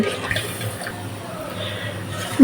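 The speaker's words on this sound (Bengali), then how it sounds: "ঝোল ফুটে উঠছে দেখুন" Soft bubbling of curry gravy simmering in a pot before rohu fish is added, a steady low burble with faint clinks, fairly close and without talk.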